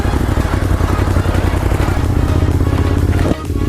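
Ducati Monster 821 engine accelerating with a loud, steady rumbling drone that cuts off briefly near the end before picking up again.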